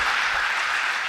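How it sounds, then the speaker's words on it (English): Audience applause at a high school spring concert, a dense, even wash of clapping filling the whole moment at moderate level with no talk over it. "A big round of applause for them"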